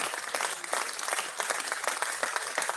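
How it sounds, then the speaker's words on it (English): Steady applause fills the room at a political meeting, many hands clapping at a constant rate with no talk over it. "Please give that clap sound."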